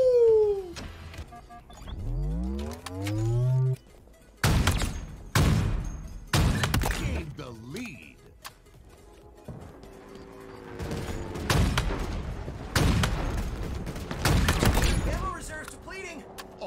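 Bursts of gunfire from Halo Infinite weapons, a run of sharp loud shots and rapid volleys, with someone talking at the start and between the shots.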